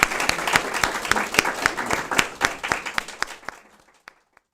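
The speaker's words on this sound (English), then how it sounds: "please give our panelists a round of applause" Audience applause for the panelists at a policy discussion event on South Korea's new president and U.S.-Korea relations, a full burst of clapping from many hands that fades out and stops near the end.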